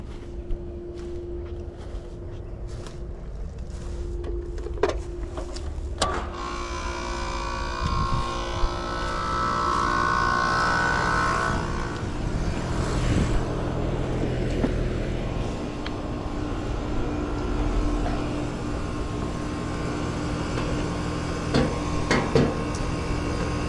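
HVAC heat pump unit with a frozen evaporator switching on in heat mode, a steady low mechanical hum and whir that rises after a few clicks and keeps running close by.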